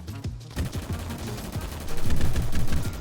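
Rapid bursts of gunfire in a Roblox Counter-Strike style shooter, dense overlapping shots that grow louder and more sustained toward the end, with no talking over them.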